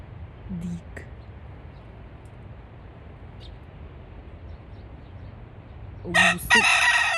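A rooster found on a hillside in Korea crows loudly and close at the end, a bright drawn-out call, after faint clucks and scattered small sounds over quiet outdoor ambience.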